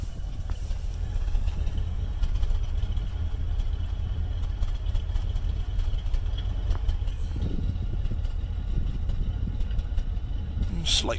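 An old Cadillac, about forty years old, idles with a slight misfire, picked up at the exhaust as a steady close low rumble with uneven pulses, alone throughout.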